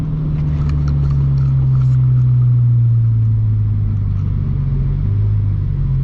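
Honda Civic Type R engine during a roll race against an Accord, heard as a loud, steady low cabin drone and rumble throughout.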